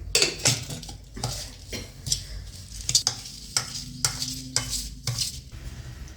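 Spoon stirring a spice mixture with a spoonful of oil in a bowl, giving repeated close scraping and clinking strokes against the bowl in an uneven rhythm, with no talking.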